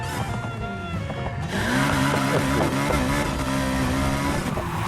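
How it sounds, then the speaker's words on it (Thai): A supercharged Chevrolet Corvette Grand Sport engine in the video game Need for Speed Heat revs hard several times, its rising whine and growl loud and close, with no one talking. "โอ้โหเสียงซูเปอร์ชาร์จชัดมากอะ่ะ"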